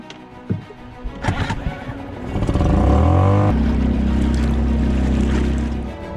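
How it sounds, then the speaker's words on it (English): A small petrol outboard engine on a dinghy starts up and runs steadily at close range, its loud droning hum holding for several seconds after some knocking and handling noises, with no talking. "we're going to have to resort to petrol power and stick the little engine on the dinghy"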